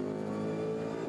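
A VW Golf racing camera car drives in a VLN endurance race at the Nürburgring, its engine droning loud and steady from on board in a sustained, harmonic-rich tone with no break.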